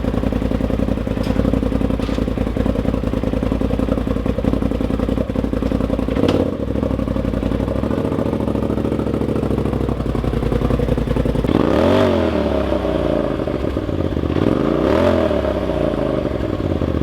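A Polaris RZR Turbo S UTV's turbo engine with a new loud exhaust idles and rumbles steadily, then revs up sharply twice near the end with rising, roaring pitch sweeps and harsh exhaust.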